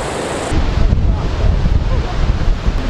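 Ocean surf at Lennox Head where surfers ride the waves, heard as a steady broadband wash of breaking water heavily buffeted by loud wind on the microphone, continuous and close for the whole stretch.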